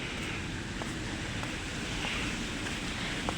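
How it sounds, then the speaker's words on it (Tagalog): An outdoor water fountain outside a hotel gives a steady, broad rush of splashing water, heard alone at a moderate distance with faint wind noise. "Yan yung fountain, guys."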